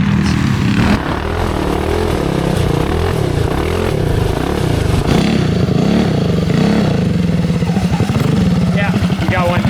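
Twin small engines on a homemade go kart run together loudly nearby, a raspy buzzing drone with uneven, pulsing rhythm and revs rising and falling, with a voice talking over it.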